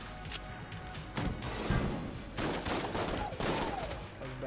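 Gunfire from the video game Enter the Gungeon comes in several short bursts of fairly quiet rapid shots with impact thuds, separated by brief lulls.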